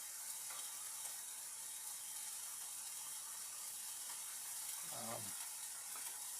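Chicken mushroom fries in a pan, a dense, steady sizzle crackling continuously at close range, broken near the end by a brief scrape of stirring.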